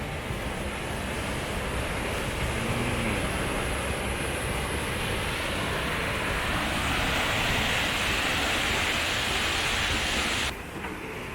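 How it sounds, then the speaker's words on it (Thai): A waterfall in a forest in Sweden roars steadily and loudly, a continuous broadband rush of falling water with no talk, cutting off abruptly near the end. "นี่คือน้ำตกฮะ"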